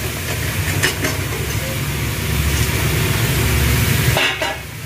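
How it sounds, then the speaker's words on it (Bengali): Chopped vegetables sautéing in a pan: steady sizzling with a low rumble underneath and a few scraping stirs, fairly close and constant, with a brief pause near the end. "এটাকে আমি আর একটুখানি কষে নেব।"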